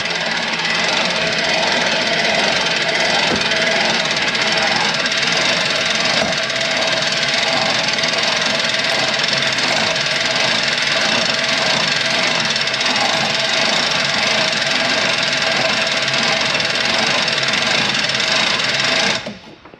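Steady, loud mechanical whirring and clicking from the crank that raises the roof of a 2014 Coachman Clipper 108ST pop-up camper, running continuously without pause and then stopping abruptly at the end.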